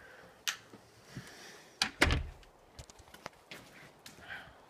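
A freshly stained wooden front door closes with a firm thunk, set among a few lighter knocks and rattles, close by in a quiet room.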